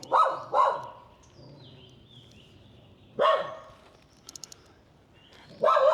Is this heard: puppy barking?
yes